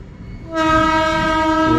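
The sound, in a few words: Indian Railways coal freight train passing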